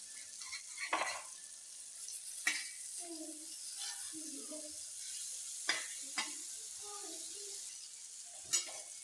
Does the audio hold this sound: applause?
no